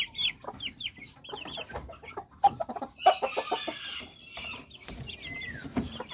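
Chicks and chickens cluck and peep close by in a farmyard, with irregular bursts of clucking overlapped by high cheeps, one louder call cutting through midway.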